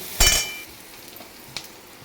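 Food frying in a covered pan, a brief loud burst of sizzle and a lid or utensil clink at the start, then a faint low simmer with one small clink, close, no talking.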